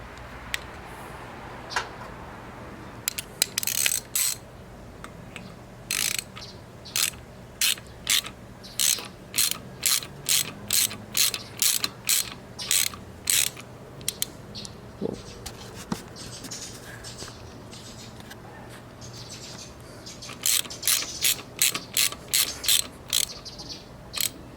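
A ratchet wrench clicks in rapid, evenly spaced bursts while tightening bolts on a Chevrolet Cobalt SS short-block engine, close and crisp, with brief pauses between strokes in an otherwise quiet workshop.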